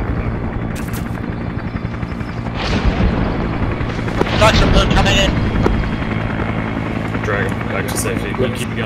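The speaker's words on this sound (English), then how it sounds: "Chopper's coming in." A helicopter arrives in the Vietnam War game Arma 3 SOG Prairie Fire, its steady heavy rotor rumble building with booming impacts and gunfire bursts mixed in, loud and continuous throughout.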